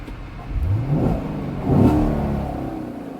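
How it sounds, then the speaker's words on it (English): A Corvette Z06 race car engine revs in two rising surges, close and loud, with a steady running drone between and after them. "That's a race car."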